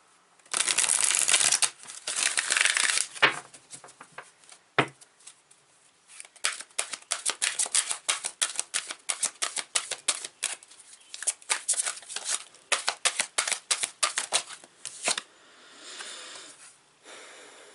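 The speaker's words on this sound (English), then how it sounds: "I'm going to do another shuffle." Rapid riffling and flicking of a tarot card deck, close and crisp, in repeated bursts of quick shuffles with brief pauses between.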